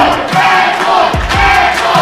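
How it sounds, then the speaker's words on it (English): A wrestling crowd at a live show chants loudly and continuously in unison, a dense roar of many voices with rhythmic shouted pulses close up. "Crowd chanting Red Boys"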